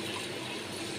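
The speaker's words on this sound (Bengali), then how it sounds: "জল দিয়ে দিলাম।" Water poured into a cooking pan while making an egg dish: a short, steady gushing pour lasting about a second, moderately quiet and alone.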